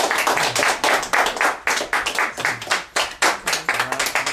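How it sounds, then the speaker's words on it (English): Close, loud clapping at a community gathering honoring its speakers; a few individual pairs of hands heard distinctly, with uneven rhythmic claps rather than a dense crowd roar. "Let's give all our speakers a round of applause."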